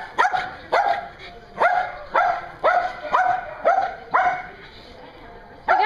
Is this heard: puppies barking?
yes